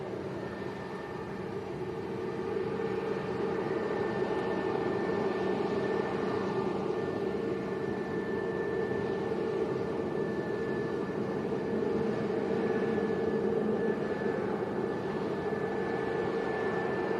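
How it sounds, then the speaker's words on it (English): Steady jet whine and broadband roar from an EasyJet Airbus A320neo airliner at Lanzarote airport, a continuous moderately distant engine drone with a sustained tonal hum and no talk. "EasyJet to Birmingham, an 8-year-old Neo."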